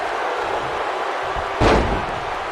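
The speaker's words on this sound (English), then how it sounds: "Sickening thud as his body is driven to the mat." A wrestler's body slams onto the mat in the WWE 2K19 wrestling game, one heavy thud over a steady crowd roar.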